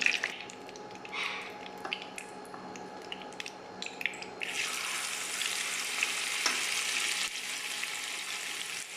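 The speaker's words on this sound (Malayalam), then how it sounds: "അരപ്പുരട്ടി വെച്ച് കഴിഞ്ഞാൽ മീൻ ഇട്ട് കൊടുക്കാം." Marinated anchovies dropped into hot oil in a pan: quieter crackling and clinks at first, then a loud, dense, continuous sizzle once the fish hit the oil, close with no voices.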